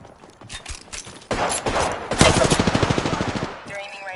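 Automatic gunfire in Apex Legends rattles off as a rapid, loud burst of evenly spaced shots after a rising wash of noise, with brief voices mixed in.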